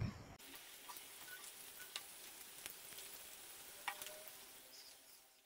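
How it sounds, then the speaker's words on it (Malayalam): Beef pakkoda deep-fries in oil, a faint, even sizzle that holds steady, with a few small ticks and pops and no talking. "ബാക്കിയുള്ളതും കൂടി ഇതുപോലെ വറുത്തെടുക്കാം."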